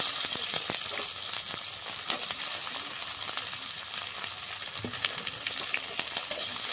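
Chopped onion sizzling in oil over whole spices such as cardamom, stirred steadily in a pan for a chicken curry: dense crackling hiss with frequent scraping taps, close by and free of talk.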